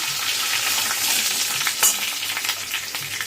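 Mustard seeds, radhuni, fenugreek and a bay leaf sizzle in oil in a kadai, a bright close crackle with occasional stirring scrapes and pops, no voices.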